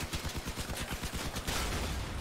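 Rapid repeated blasts of weapon fire in the vehicle combat game Crossout, a fast even rhythm of thumps that continues densely throughout, fairly quiet in the mix with no talking.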